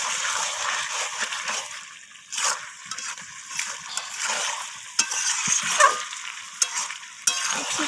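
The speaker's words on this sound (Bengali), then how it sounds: "আমি এখানে জল দেব আলুগুলো সিদ্ধ হওয়ার জন্য" Water splashes into a pan of chicken and potatoes, setting off a steady sizzle with stirring and scraping sounds, close and moderately loud throughout, with no voices.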